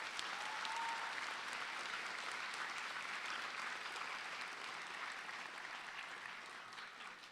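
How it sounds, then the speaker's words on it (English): Graduation audience at Mount Diablo High School's 2022 commencement breaks into sustained, steady applause, a dense wash of clapping from a large crowd that holds for several seconds and slowly tapers. "Graduates, can we please give our family and friends a big round of applause?"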